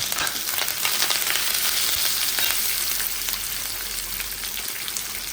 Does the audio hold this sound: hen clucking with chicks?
no